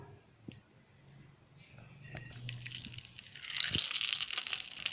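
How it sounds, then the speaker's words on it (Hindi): Cumin seeds crackling in hot oil as a tempering for bathua raita, with a soft, steadily building sizzle and scattered pops that grow denser toward the end. "ऑयल गर्म हो गया है, हम इसमें ज़ीरा डालेंगे और इसको पका लेंगे।"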